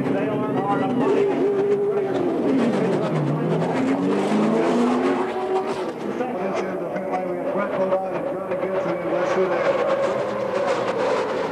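NASCAR race cars roar along pit road late in the 2001 Daytona 500, engines rising and falling in pitch as one car swoops past, with a commentator talking over the steady racing noise.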